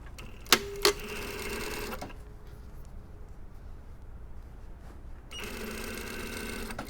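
Sewing machine stitching a bustier panel, two sharp clicks followed by a short burst of rapid stitching, a quiet pause, then the motor whirring again, close and alone without talking.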